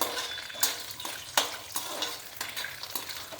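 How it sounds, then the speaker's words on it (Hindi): Almonds roasting in hot ghee in a kadhai, a steady close sizzle broken by sharp scrapes and clinks of a spoon stirring against the pan every half second or so. "घी हमारा गर्म हो चुका है, इसमें मैंने ये बादाम डाल दिए हैं।"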